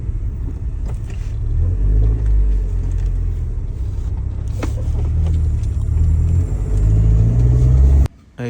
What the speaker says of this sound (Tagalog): Ito naman yung tunog ng langit-ngit.